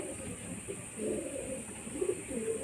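A homebred Madras pigeon coos in low, rolling bursts, two or three phrases spread over a couple of seconds, close and moderate over steady background noise.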